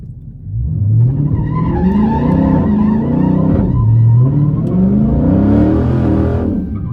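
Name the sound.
Dodge Challenger Scat Pack 1320 accelerating on a drag strip pass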